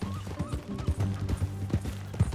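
Hooves clip-clop at a steady walking rhythm from a horse in a Western open-world game, close and clear, with a faint snort among the beats and no talk.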